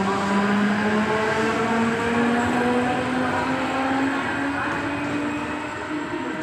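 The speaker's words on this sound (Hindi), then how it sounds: "देखिए एक और ट्रेन आ रही है, ये पनवेल की दिशा से आ रही है" A Mumbai local train approaches from the Panvel direction with a steady rising rumble and a droning tonal whine, loud and continuous, the noise slowly shifting as it nears.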